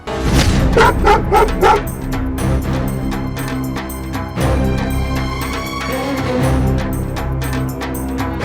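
Dogs barking loudly and repeatedly nearby, with a quick burst of yips at first, then more scattered barks continuing.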